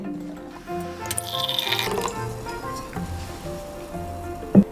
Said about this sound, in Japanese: ではグラスに注いでみます。